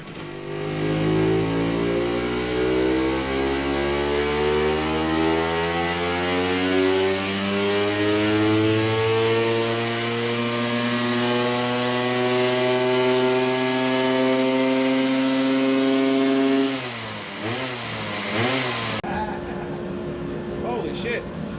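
A Vespa P200E scooter with a 208cc kit on the stock cylinder revs on a dyno, its two-stroke engine pitch climbing steadily and loudly for about seventeen seconds before dropping off and cutting out.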